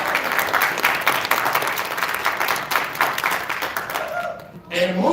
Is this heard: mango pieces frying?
no